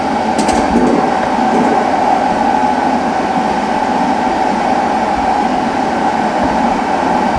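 An NJ Transit passenger train on the Northeast Corridor in Train Simulator 2016 rumbles along steadily, a loud continuous drone of wheels and motors with no speech.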